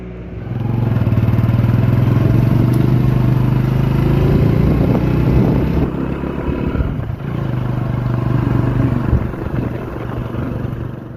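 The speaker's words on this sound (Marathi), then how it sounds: "लवकर लवकर ट्रॅक्टर आलाय" A loud engine rumbles close by, a heavy droning motor like a tractor pulling up, with some clattering over its steady throb.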